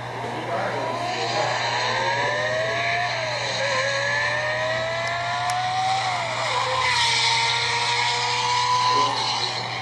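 A car engine roars loudly and close, its pitch climbing and sliding in long sweeps like a high-revving racing motor, with faint background noise throughout.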